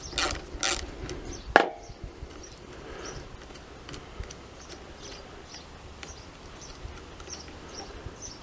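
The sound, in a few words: 8mm spanner undoing a bolt on Honda CT110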